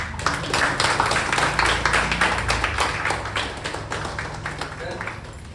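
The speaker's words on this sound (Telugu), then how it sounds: "సో అందరి కోసం ఒకసారి ఒక రౌండ్ ఆఫ్ అప్లాజ్" Audience applause at a gathering, a steady patter of many hands clapping close by that slowly tapers, with no talk over it.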